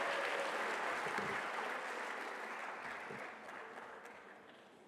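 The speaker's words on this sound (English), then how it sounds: "one more round of applause for the retirees" A room at a school board meeting applauds retirees, a fairly faint, dense patter of many hands clapping that gradually fades out over several seconds.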